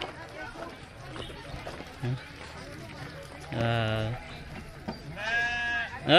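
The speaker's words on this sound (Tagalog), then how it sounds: "dito tayo ngayon sa mga tupa" Sheep bleat on a farm, with two loud, clear bleats standing out over a crowd of people chattering nearby.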